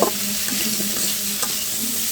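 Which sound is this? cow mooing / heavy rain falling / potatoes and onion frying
potatoes and onion frying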